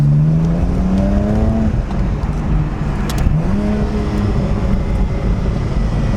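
BMW Z4 35is engine pulling hard up the twisting Maloja Pass switchbacks, a loud close exhaust note rising through the gears with a brief lift and crackle midway, then climbing again, steady and continuous throughout.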